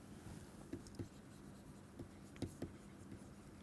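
A few faint, scattered taps and scratches of writing on a board during a crystallography lecture on lattices, occurring in short clusters against a quiet room.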